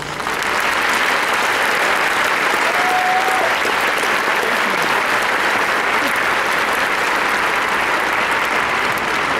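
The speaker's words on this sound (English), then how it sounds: "Please put your hands together and give those who have supported you the applause they deserve." A large graduation audience applauding the parents and supporters, dense loud continuous clapping that holds steady throughout with no break.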